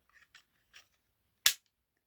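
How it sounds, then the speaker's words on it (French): A toy cowboy-style cap pistol clicks softly a few times while being handled, then fires one sharp, loud crack that decays quickly into silence. "Il est pas à billes du coup. Il est à pétard."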